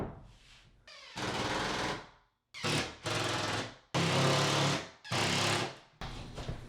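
Power drill driving screws through sheetrock into wooden boards while installing an electric fireplace wall: about six loud, close whirring bursts of roughly a second each, every one ramping up and cutting off, separated by short pauses.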